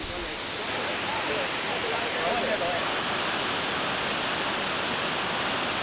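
Continuous roaring rush of a waterfall at Doi Inthanon on a windy day, loud and steady, filling the whole clip with broad hissing noise.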